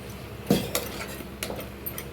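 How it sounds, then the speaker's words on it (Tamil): A spoon scrapes and clinks against a pot while stirring mushroom biryani masala with curd, giving a few scattered soft knocks and scrapes with no voices. "எல்லாத்தையும் நல்லா கலரி விட்டுருங்க"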